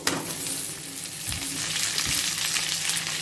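Ivy gourd and onion pieces frying in an oil pan, a continuous, fairly loud sizzle with a few low knocks from stirring, heard alone without talk.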